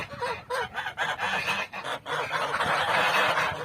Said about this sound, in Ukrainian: А зараз послухайте, як же гелгочуть гусі.